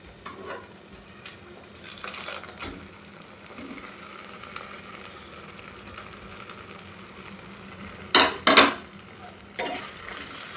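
Vegetables stirred into fried spice paste for Bengali sukto, giving a steady sizzle with scraping stirs and a few sharp clatters of a utensil against the pan near the end.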